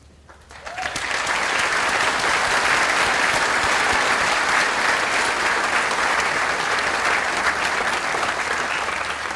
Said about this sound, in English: Slate Valley is an amazing community that certainly deserves a round of applause.